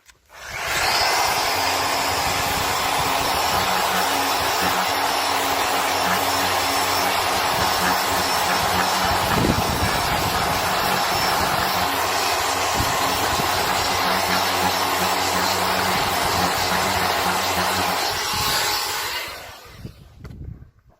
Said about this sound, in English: give it a go over with the RO90 with 120 sandpaper on it to sand down the super finish